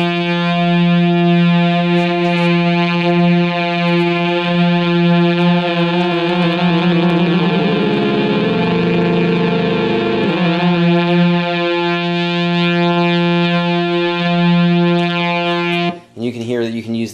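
A Sequential Circuits Prophet 5 synthesizer holds a steady, rich buzzy tone with two oscillators and no pulse width modulation, the sound beating and thickening midway before settling, loud and sustained until it cuts off near the end.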